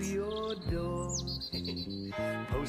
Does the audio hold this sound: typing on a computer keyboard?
no